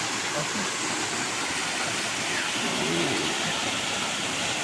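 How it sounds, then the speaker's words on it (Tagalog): Waterfall in a river with catfish, tilapia and shrimp, heard as a steady broadband rush of falling water that fills the whole clip evenly, with no one speaking over it. "Waterfalls."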